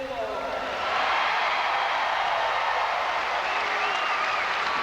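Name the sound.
basketball crowd applauding at award ceremony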